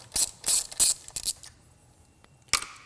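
A ratchet clicks in four quick bursts, then again after a pause, undoing the 8mm bracket screw on the timing cover of a Land Rover Discovery or Range Rover Sport during EGR valve replacement, close and crisp.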